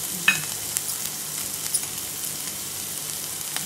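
Onions fry over a high flame with a soft, steady sizzle, and a faint clink sounds early on.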